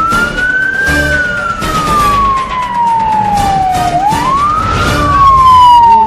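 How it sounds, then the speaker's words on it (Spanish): A Comandos de Salvamento rescue ambulance runs with its siren on, a loud, close wail sweeping slowly up and down over road and engine noise. "Con sirena abierta se abre paso entre la vida y la muerte."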